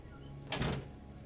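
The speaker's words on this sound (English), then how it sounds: "Door." A door slides open in Deus Ex: Mankind Divided, a single soft whoosh with a mechanical hum lasting about a third of a second, fairly quiet against a low game ambience.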